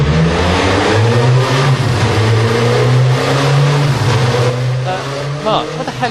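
A 1995 Williams BTCC touring car engine revs loudly and steadily up close, its pitch climbing and falling, before easing off near the end as a voice cuts in briefly.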